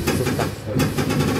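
Berlin U2 subway train rumbles and clatters steadily with a dense, continuous mechanical din from the coupling area, loud and close throughout without voices.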